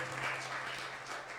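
Church congregation applauding for Jesus during a midweek communion service, a brief, soft, continuous wash of clapping with a low hum underneath.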